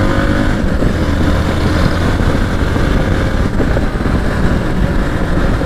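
A Hero Xpulse 200 4V motorcycle rides through narrow city streets, its engine a steady, loud rumble blended with continuous wind noise and no voices.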